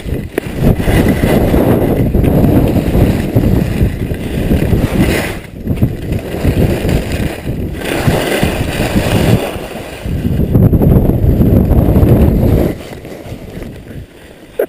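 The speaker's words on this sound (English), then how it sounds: "the wind sucks" Steady, loud wind buffets the microphone while skiing on an icy slope at Deer Valley's Jordanelle area, a continuous rushing roar that dips briefly in a few spots and drops away near the end.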